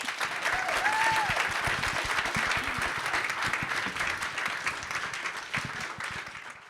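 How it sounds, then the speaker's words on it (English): A room full of attendees gives panelists at a student activism and entrepreneurship session a round of applause, loud continuous clapping that swells early and slowly tapers off, with a brief whistle-like tone near the start. "So can we just give them a round of applause?"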